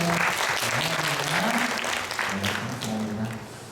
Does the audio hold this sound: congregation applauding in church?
yes